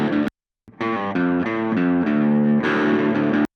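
A small guitar amp gives a distorted, buzzing tone recorded through a microphone, with chords struck in a steady rhythm after a brief gap of silence.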